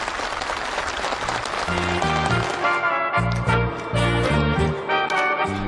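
Participants at a housewarming ceremony in Munchon applaud enthusiastically while festive music with a strong rhythmic beat plays loudly alongside.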